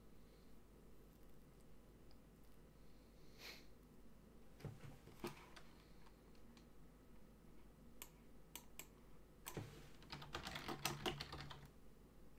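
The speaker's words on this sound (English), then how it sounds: "I was typing down here." Quiet typing on a computer keyboard, sparse soft key clicks at first that build into a quick, clustered flurry of taps near the end, close and alone with faint room hiss.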